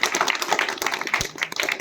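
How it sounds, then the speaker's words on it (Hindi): Audience claps in a small indoor gathering, a short burst of sharp, uneven hand claps at close range, fairly loud and unaccompanied by talk. "एक बार तालियां"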